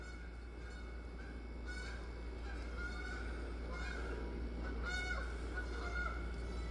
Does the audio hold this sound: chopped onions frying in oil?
no